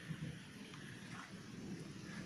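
Light rain falling outdoors on a grey day, a faint, steady patter and hiss with no distinct individual drops standing out.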